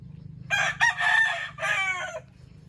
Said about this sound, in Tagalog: Tawa na mga chicken, mga sunoy.